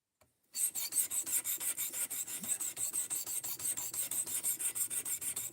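A knife blade is drawn repeatedly across a sharpening stone in quick, even rasping strokes, close and steady after a brief silent start, with no talking.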